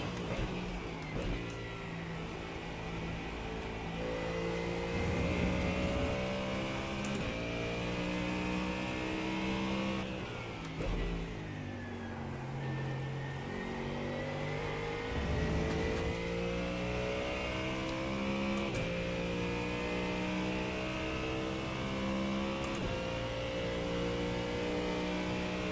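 A Ford Mustang GT3 race car in iRacing, its engine droning steadily and loudly throughout with repeated rising revs and brief lifts as it laps the track to warm its tyres, no talk over it.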